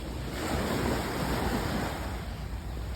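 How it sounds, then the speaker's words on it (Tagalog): Surf rolling onto a quiet, uncrowded beach at Boracay's secret beach: a steady, loud wash of waves mixed with wind buffeting the microphone, continuous for the whole stretch with no voices. "ito yung tawag nila secret beach sa Boracay"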